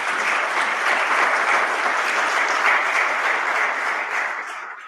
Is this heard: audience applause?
yes